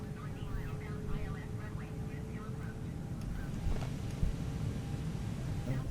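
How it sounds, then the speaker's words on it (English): An Airbus A320 in Microsoft Flight Simulator begins to roll, with a low steady engine hum and rumble, some faint whining tones and a few soft clicks, fairly quiet overall. "plane starts moving."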